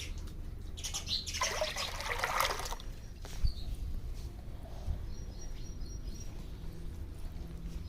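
A brief burst of water pouring and splashing early on, then fading to quiet outdoor ambience with a faint bird call and a single clunk.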